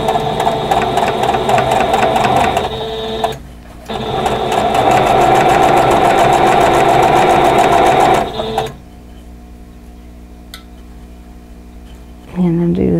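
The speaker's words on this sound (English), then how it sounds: "sew with my quarter inch seam allowance" A sewing machine runs a quarter-inch seam on a quilt block, a loud, steady close-up whir of rapid stitching that stops briefly, runs again, then falls quiet as a voice speaks near the end.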